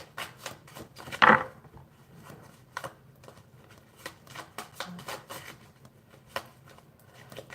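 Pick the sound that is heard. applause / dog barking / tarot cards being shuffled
tarot cards being shuffled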